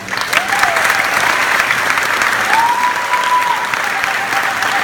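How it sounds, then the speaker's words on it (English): A graduation audience for the class of 2017 applauds steadily, a dense, loud wash of clapping sustained throughout, with a faint tonal whistle or feedback line drifting above it. "I think you deserve another round of applause."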